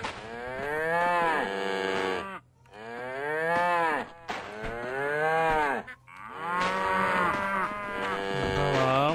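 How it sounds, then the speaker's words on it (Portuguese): A cow in the farm game Survivalcraft 2 moos loudly and close, four long drawn-out lowing calls in a row, each separated by a short pause. "Não, onde é que essa vaca vai, mano?"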